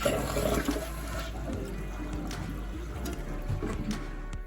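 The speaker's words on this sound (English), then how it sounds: "We've got flushing toilet." A toilet flushes in an off-grid outhouse supplied by a gravity-fed water system, with steady rushing and gurgling water held at a constant level throughout, heard up close.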